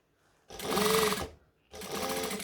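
A sewing machine stitches around a jacket sleeve while sewing a McCall's M6442 jacket, running in two close, steady bursts separated by a brief pause.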